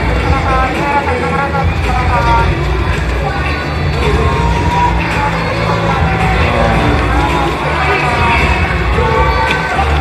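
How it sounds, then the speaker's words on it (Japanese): A packed arena crowd at a professional basketball season finale cheers, shouts and whoops in a dense, continuous roar, with applause blended into the steady noise throughout. "ぜひスタッフ GT へ皆様盛大な拍手をお願いいたします"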